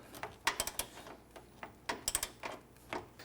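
Hand ratchet tightening a front bumper bolt on a Jeep Wrangler JL Unlimited, heard as two quick bursts of sharp, close clicking with short pauses between strokes and no voices.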